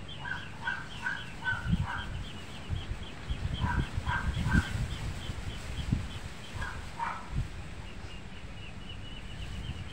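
Ducks on a Filipino backyard grill outing, quacking in several short bursts of repeated honking calls, close by over a steady low background rumble.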